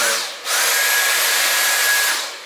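A Dyson V8 Slim Plus cordless vacuum cleaner runs close up with a loud, steady, high-pitched whine and rushing airflow after a brief start at the beginning.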